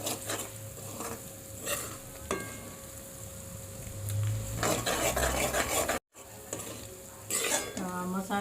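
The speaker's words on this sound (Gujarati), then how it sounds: "મસાલાને પણ આપણે 1 થી 2 મિનિટ સુધી તેલમાં જ પાકવા દેવાના છે." Spices cook in hot oil in a pan for Kathiyawadi dhokli curry, a steady sizzle with intermittent stirring scrapes and clinks of a utensil against the pot, close and moderately loud.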